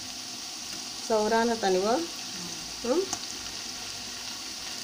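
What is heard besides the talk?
ginger garlic paste frying in peanut oil with onions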